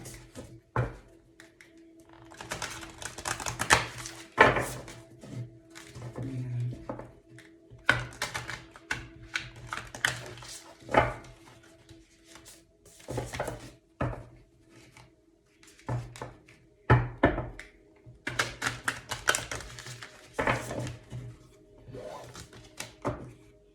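Tarot cards being shuffled and handled at close range, with irregular bursts of crisp flicking, tapping and rustling separated by short quiet gaps.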